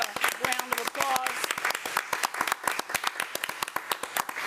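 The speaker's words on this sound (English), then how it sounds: "Let's give our Northside and Bells a round of applause" A crowd at a school district committee meeting claps in a sharp, scattered round of applause, individual hand claps distinct and close, with brief speech over the start.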